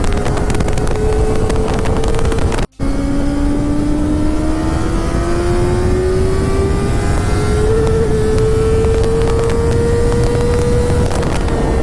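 Kawasaki Ninja ZX-4R motorcycle accelerating in second gear across a bridge, its engine note rising steadily and loudly for about nine seconds with wind rush over the microphone, after a brief cut near the start.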